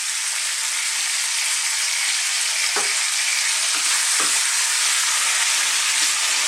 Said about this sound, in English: And I just want to brown this like this for about 4 or 5 minutes.